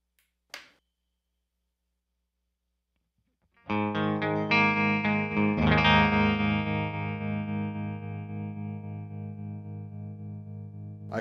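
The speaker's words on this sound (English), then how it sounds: "Let's hear the tremolo." Electric guitar played through a Victory V4 Duchess amp on a clean tone with the amp's tremolo engaged. After a sharp click and a pause, a strummed chord rings out and pulses steadily in volume, with no talking.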